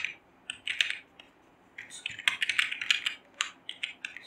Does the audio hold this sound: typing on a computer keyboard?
yes